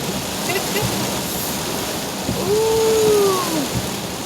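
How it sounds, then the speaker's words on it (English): Torrential rain pours steadily on a car driving through flooded roads, a dense, loud, unbroken wash of water noise with hiss from the tyres, and a brief voice murmuring partway through. "The rain sounds good, but it's nice rain."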